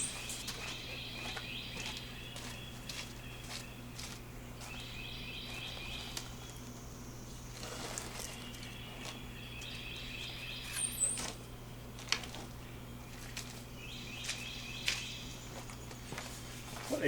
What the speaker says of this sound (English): At least we can hear the birds chirping.